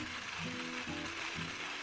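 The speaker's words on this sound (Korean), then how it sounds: "이제 속도를 높여서 휘핑해주세요." An electric whisk whips dalgona matcha cream made with egg and sugar at high speed, giving a quiet, continuous mechanical whir with a gently wavering pitch as the beaters move through the bowl.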